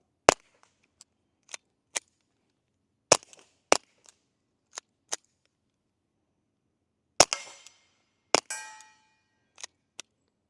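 Ruger Mark IV 22/45 Lite pistol firing CCI quiet .22 rounds outdoors, a string of about a dozen sharp, dry cracks spaced irregularly with silence between, the last few shots followed by brief clattering.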